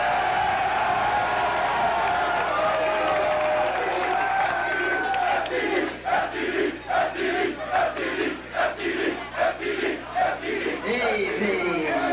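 Crowd at a 1994 Calvert Hall football banquet breaking into loud cheering and whooping, a rough roaring surge that swells and pulses with rhythmic shouts toward the end, some voices mixed in.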